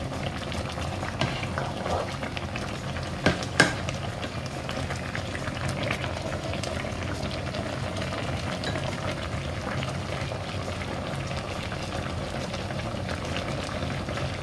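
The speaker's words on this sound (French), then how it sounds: "On laisse mijoter quelques minutes avant de passer à l'étape finale." Bouillon with smoked fish and a little granulated stock simmering in a pot, a steady low bubbling wash with a couple of brief clinks, close and continuous, no voices.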